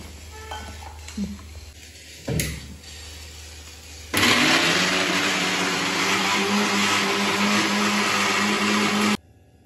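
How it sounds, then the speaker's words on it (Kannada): A mixer grinder grinding coriander with water whirs loudly and steadily for several seconds after a brief start-up, with a thick churning motor drone that cuts off abruptly. "ಇವಾಗ ಸ್ವಲ್ಪ ನೀರು ಹಾಕ್ಕೊಂಡು ಇದನ್ನು ರುಬ್ಕೋಬೇಕು ರುಬ್ಕೋತೀನಿ"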